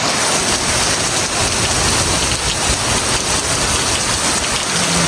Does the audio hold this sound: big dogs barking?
no